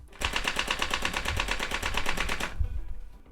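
An Enforcer haptic pistol and rifle stock firing its force-feedback recoil at a low fire rate, giving a rapid, even burst of mechanical clicks close up for about two seconds before it stops.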